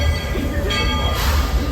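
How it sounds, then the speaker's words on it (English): The Magic Kingdom Railroad train at Walt Disney World rolls steadily along its track, giving a continuous loud rumble and clatter with faint metallic squeal on top. "The Magic Kingdom Railroad makes its way around the entire park"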